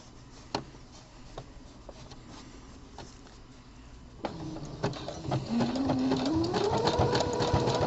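A home sewing machine stitching a gusset panel on boxer briefs runs at a low, steady purr with scattered clicks, then grows louder and busier as the stitching speeds up near the end.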